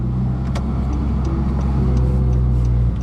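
A 9th generation Honda Civic Si with a manual gearbox drives along in second gear, its engine holding a steady, loud, low drone inside the cabin with faint clicks on top.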